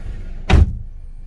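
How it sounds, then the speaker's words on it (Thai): A car door on a 2012 Chevrolet Cruze 1.8 LS is shut once, giving a single solid thunk about halfway through, close and fairly loud against a quiet background. "ปิดประตูนิดนึงครับ"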